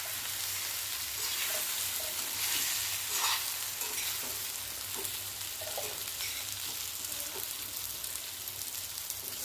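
Stuffed bitter gourd (karela) steams and cooks in a pan, giving a steady soft sizzle with faint stirring and light clinks, close by and with no talk.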